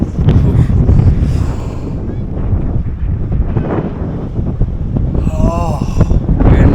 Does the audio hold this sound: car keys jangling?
no